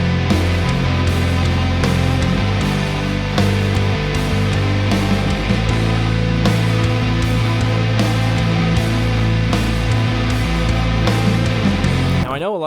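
A finished shoegaze chorus, pitched down, plays loud and full, with heavy low-end bass, regular drum hits and a thick distorted wash of sustained tones that warps as it stops at the end.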